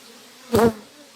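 A short, close buzz from honeybees at a hive swells briefly out of a faint steady hum and fades again within a fraction of a second.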